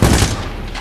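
A quick burst of gunfire in Medal of Honor: Warfighter, several sharp shots cracking close together at the start, then fading into a softer rumble.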